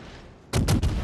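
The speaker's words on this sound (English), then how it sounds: "So I fire some HE" A warship's guns fire high-explosive shells in a naval battle in World of Warships, a quick loud volley of three booming blasts in rapid succession after a quiet ambient lead-in.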